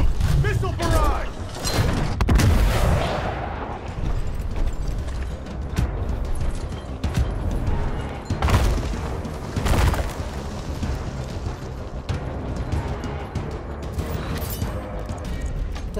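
Heavy booming missile barrage blasts rumble through a dense, chaotic Gears Tactics soundscape, several deep impacts landing close together over constant background noise.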